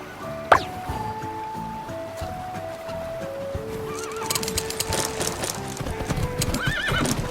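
Horses in the video game Horse Club 2 clip-clop along and whinny. A sharp hoof knock opens the stretch, then rhythmic hoofbeats build and grow busier. Two rising-and-falling neighs ring out near the middle and again near the end.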